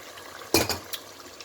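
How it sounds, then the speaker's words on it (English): Tomato dropped into a stew pot and stirred with a spatula, a short metallic clatter and scrape followed by a softer knock, brief and close in an otherwise quiet kitchen. "I'm adding my tomato right away"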